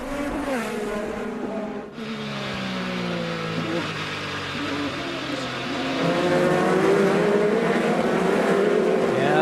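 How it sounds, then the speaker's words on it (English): IndyCar race cars scream past on the St. Petersburg street circuit during the 2015 season opener, engines rising and falling in pitch as they pass, loud and continuous with a commentator talking over them. "Graham Rahal still pushing hard. Right behind the 11 of Sebastian Bourdais."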